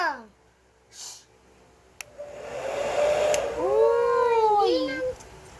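A hair dryer or blower runs with a steady, moderately loud rushing for about three seconds, while high, wavering cries rise and fall over it before it cuts off.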